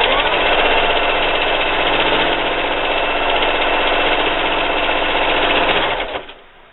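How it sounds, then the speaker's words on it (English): A sewing machine runs steadily at speed, stitching binding onto a quilt-as-you-go table runner, a loud continuous mechanical whir that slows and stops near the end. "just sew on your binding"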